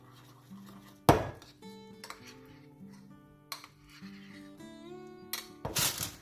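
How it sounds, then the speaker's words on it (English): Candle wax is scraped from the edges of a container and given a small stir, producing two sharp scraping clatters against steady background music, with faint clinks in between. "Just gonna scrape the edges down. Small stir."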